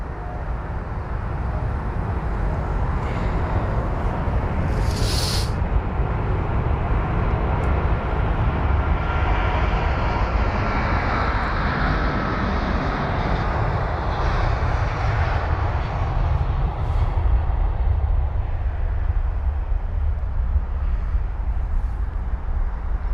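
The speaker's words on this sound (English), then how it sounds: "on the runway is going to be flight number AA79 for the American Airlines 777-200ER from, or at least heading to Dallas" An American Airlines Boeing 777-200ER bound for Dallas rolls on the runway at London Heathrow, its jet engines roaring as a broad, sustained wash that swells and holds at a distance, with no voices.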